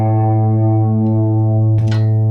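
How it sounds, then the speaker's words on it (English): A DigiTech Polara stereo reverb pedal rings out a sustained guitar reverb tail, a steady layered tone hanging loud and close, broken near the end by a brief noisy pluck or click. "Reverb's still going."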